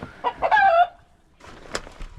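Chickens cluck in short, loud, close bursts, followed after a pause by fainter scattered clucks and rustling.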